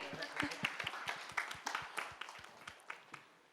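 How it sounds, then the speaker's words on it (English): Scattered, fairly quiet clapping from an audience at a soap product launch event, with distinct separate claps rather than a dense roar, and a voice briefly audible underneath. "can we have a huge round of applause for Malaika"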